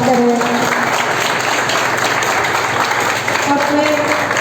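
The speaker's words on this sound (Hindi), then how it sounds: "जोरदार तालियां सर को सत्कार करें" Audience applause at a school retirement party honoring a senior teacher, dense and steady throughout, with voices faintly mixed in beneath the clapping.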